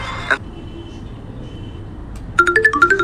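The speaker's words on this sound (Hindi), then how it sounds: "इससे पहले कि लकी कुछ सोच पाता, अमित का फोन बजने लगा था।" A short electronic phone ringtone plays a quick series of bright melodic beeps, preceded by a brief tone and a quiet pause.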